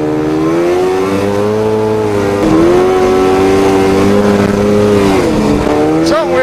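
A Polaris snowmobile engine with poorly tuned carburetors revs and drones loudly and steadily, pitch rising and falling in waves, close by, with a brief squeal near the end.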